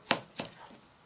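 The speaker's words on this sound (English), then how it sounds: "I can cut it like pieces, small pieces" A knife chops tomatoes into small pieces on a board while cooking Tibetan shaptse, a meat and cabbage dish: two crisp, close chops a fraction of a second apart, then quiet.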